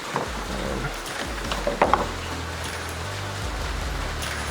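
Rain falls steadily outdoors in a soft, even hiss, with a low engine-like hum and a few clatters underneath. No one speaks.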